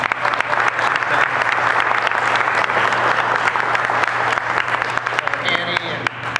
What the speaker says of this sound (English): How about a nice round of applause for Pam and